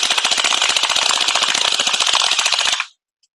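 A Vasvarn Glock gel ball blaster fires a rapid, steady full-auto burst at a target, loud sharp pops running continuously for nearly three seconds before cutting off abruptly.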